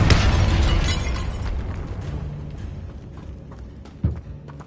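A loud Confringo blasting spell explodes at the start in Hogwarts Legacy inside a tomb by an altar, its boom decaying over several seconds before a second brief, sharper pop near the end.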